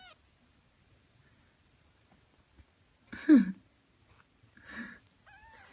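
A small kitten lets out a couple of faint, short mews in a quiet room, separated by near silence.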